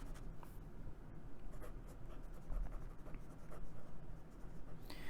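A Pelikan M800 fountain pen with a wet, slightly rough nib scratches steadily across paper, close and continuous, with no voices over it.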